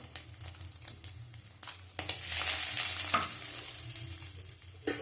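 Fish sizzling in hot oil with scraping and stirring clatter; the sizzle swells louder halfway through and stays close.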